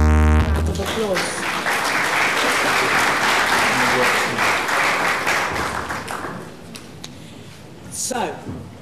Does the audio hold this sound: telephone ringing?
no